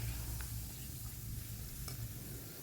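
Pieces of free-range country chicken sizzle in a hot pan while being stirred, a soft continuous crackle with a couple of faint scrape clicks and no voices.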